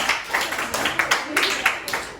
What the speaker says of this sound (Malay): Okey, tepuk tangan untuk diri sendiri.